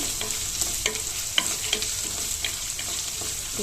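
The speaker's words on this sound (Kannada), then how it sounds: "ಈಗ ಸಣ್ಣಗೆ ಹೆಚ್ಚಿರೋ ಈರುಳ್ಳಿ ಹಾಕೊಂಡು ಚೆನ್ನಾಗಿ ಫ್ರೈ ಮಾಡ್ಕೋಬೇಕು" Finely chopped onions fry in a pan for pepper rice, with a steady close sizzle broken by scattered clinks and scrapes from stirring.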